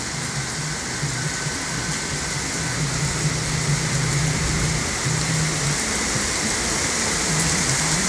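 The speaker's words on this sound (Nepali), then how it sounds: "बाढी आइरहेको छ" Flood water rushes under heavy monsoon rain on the road from Butwal to Gulmi in Nepal: a loud, steady roar of water and rain that runs throughout, with a low engine-like hum beneath.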